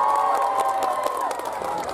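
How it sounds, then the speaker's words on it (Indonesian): Indonesian crowd at a public gathering in Indramayu erupting in loud, sustained cheering and shouting with clapping mixed in, dense and continuous for the whole stretch. "Semuanya tepuk tangan"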